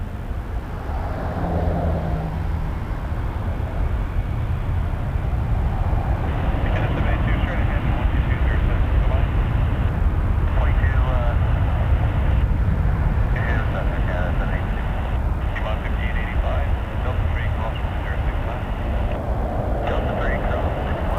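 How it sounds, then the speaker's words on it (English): A Boeing 747 airliner at Toronto Pearson Airport roars loudly and steadily as a broad, continuous engine rumble, with people talking over it throughout. "Flight 426. 747. My favorite plane."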